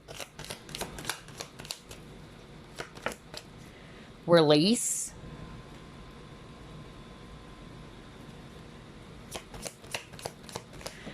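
Tarot cards being shuffled in a brief burst of riffling and flapping at close range, with quiet soft handling sounds and a voice speaking a word.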